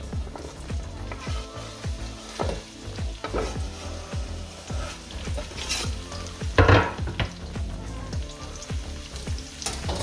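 Carrot, onion and garlic frying in pork fat melted from sausage, a loud continuous sizzle broken by repeated stirring scrapes and clinks of a utensil against the pan, with a sharper burst near the end.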